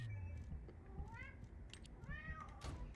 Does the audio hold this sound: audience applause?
no